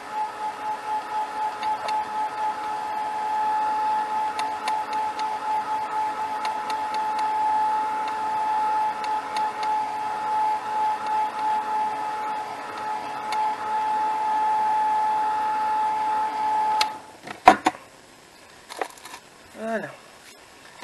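A heat tool drying glitter embossing powder on a handmade Christmas label gives a steady, close whining hum for about seventeen seconds, then cuts off, followed by a few light clicks and handling noises.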